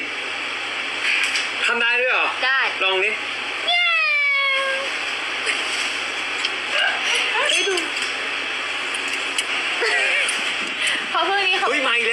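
A human voice imitates a kitten, giving a series of short, high meows in irregular bursts, close and fairly loud, mixed with people talking.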